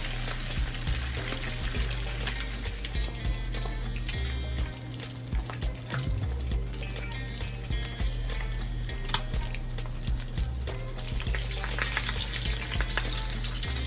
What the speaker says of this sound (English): we're going to fry our fish until the skin side is crispy, and then we'll flip it over